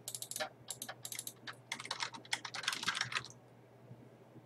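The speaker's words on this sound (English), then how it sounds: "You can change the question by typing in the question title box." Quick bursts of keystrokes on a computer keyboard, close and fairly quiet, come in uneven clusters before stopping near the end.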